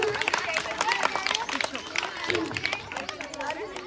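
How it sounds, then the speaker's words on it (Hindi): Children clap for a contestant at a summer camp talent round, a busy patter of small hands mixed with chatter and excited voices, steady and fairly close throughout. "ताली बजा दो।"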